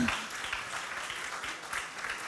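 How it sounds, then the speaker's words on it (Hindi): An audience at an awards function claps steadily, a sustained moderately loud wash of many hands with no pauses. "मैं चाहता हूँ तालियाँ बजाई जाएँ एक दो बार"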